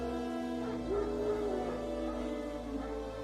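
Wild dogs barking and yipping in The Witcher 3: Wild Hunt game, a few moderately distant barks and a whining yelp over a low ambient background, with no talk.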